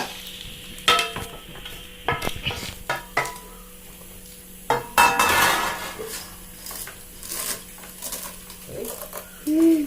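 Vermicelli is tipped into a pan of swollen raisins and stirred, giving scraping clatters and utensil knocks over a continuous frying sizzle. The bursts of activity are irregular and close by.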